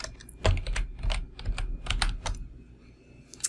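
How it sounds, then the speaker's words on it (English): A search goes in on a computer keyboard as a quick run of about a dozen crisp, uneven keystrokes, close and clear, with a short pause before a final tap. "you can type in the acronym"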